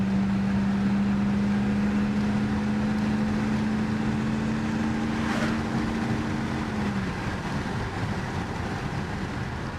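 A Mercedes E500 Renntech runs smoothly in a steady, even drone with a low sustained tone that fades after several seconds, while a faint rising whoosh passes in the middle.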